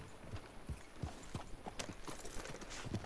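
Horse hooves clip-clopping in the video game Red Dead Redemption 2, a steady walking rhythm of soft, close hoofbeats over faint ambient background.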